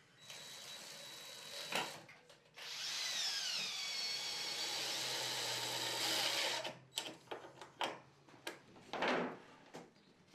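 Power drill driving screws into terrace deck boards: a short whir, then a long steady whine for several seconds, followed by scattered clicks and knocks of handling the boards, close and fairly loud.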